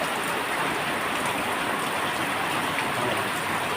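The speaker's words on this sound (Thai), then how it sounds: "วันนี้ฝนตกนะครับ" Steady rain pouring down outdoors at a residential estate guard post in Thailand, a dense, even hiss of drops on surfaces with no pauses and no voices.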